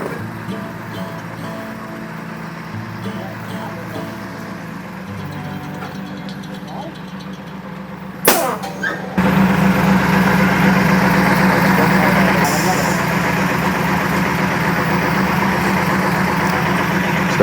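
A truck engine idles steadily with a low, even rumble while a bogie trailer is unhitched. Partway through there is a brief clunk, and then the idle grows louder and fuller, with faint voices in the background.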